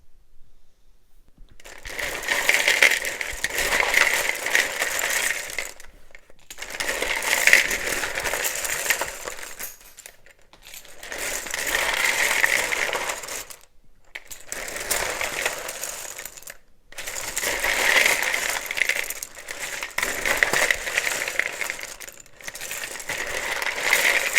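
Tarot cards are shuffled repeatedly in bursts of crisp riffling, separated by short pauses, close and fairly loud.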